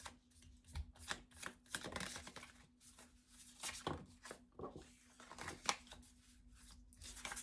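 A deck of oracle cards being shuffled for a reading, heard as soft, quiet bursts of riffling and card slaps repeating in irregular handfuls, close by.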